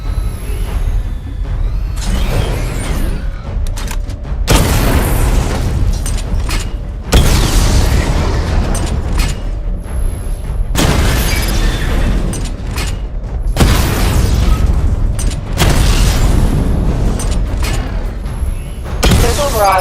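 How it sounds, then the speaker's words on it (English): Rapid salvos of missile explosions from the Batman suit in Batman Arkham Knight: repeated loud booming bursts a couple of seconds apart, each with crackling mechanical debris and clanks, close and dominant throughout. "Charge the missile barrage to level 2 to destroy up to 4 targets at once."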